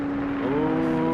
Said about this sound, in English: Let's see what this Lexus can do real fast.